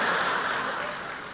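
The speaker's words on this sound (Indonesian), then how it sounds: "Beri tepuk tangan buat Tuhan Yesus." Applause from a church congregation during a Sunday service, a dense, steady wash of clapping that fades slightly toward the end of a short burst.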